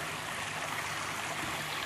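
A small creek waterfall trickles steadily at a wedding venue by the locks, a continuous broad wash of running water with no voices over it.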